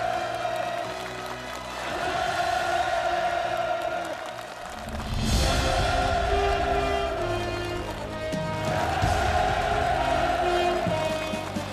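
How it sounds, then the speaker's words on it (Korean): At the inauguration ceremony of the Sinuiju Combined Greenhouse Farm, a large crowd roars with sustained enthusiastic cheering that swells and dips in waves, mixed with a steady musical tone. "열광의 환호성을 터쳐 올렸습니다"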